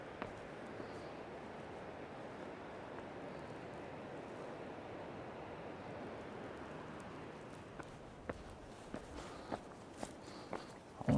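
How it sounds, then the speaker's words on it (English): A waterfall on a trail in Linville Gorge, North Carolina, gives a steady, faint roaring wash from a distance, with soft footsteps crunching along and a few louder knocks near the end. "Falls are getting louder."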